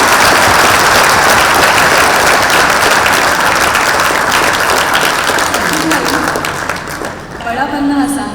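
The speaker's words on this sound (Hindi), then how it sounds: "तालियां इनकी माँ के लिए भी बजी हैं" Loud, sustained audience applause at a talk event, a thick roar of many clapping hands that fades near the end as a voice begins speaking.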